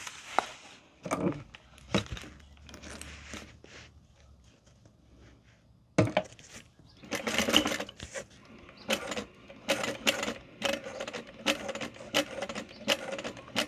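Sewing machine stitching slowly around a curved seam on an Erica Bowler bag, bursts of close mechanical whirring stopping and starting with pauses between runs.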